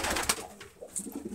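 Racing pigeons cooing softly in a loft where a breeding pair sits on eggs, with low, close murmuring coos and a few brief rustles, no talking.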